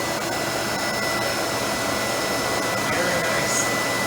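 An Electrolux Epic Series 6500 SR vacuum cleaner runs with a steady, loud motor whine and airy rush, continuous and close, with no talking.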